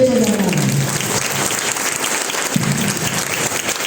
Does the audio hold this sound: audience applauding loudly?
yes